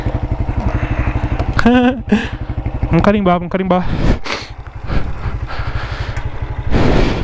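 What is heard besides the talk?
160 motorcycle engine with aftermarket exhaust kit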